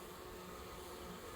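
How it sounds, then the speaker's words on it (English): Bees buzzing outdoors as they return with pollen, a faint, steady insect hum with no pauses or talk. "enjoying the bees, looking how they come home with the pollen"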